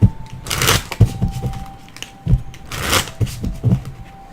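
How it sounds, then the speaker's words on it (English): A deck of cards being shuffled at a reading table, with several quick riffling bursts and soft taps close by, no talking. "Shuffle this one."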